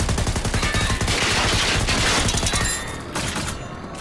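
Rapid automatic gunfire in a Valorant-style shooter video game rattles loudly and continuously for about three seconds, then fades into lighter scattered shots.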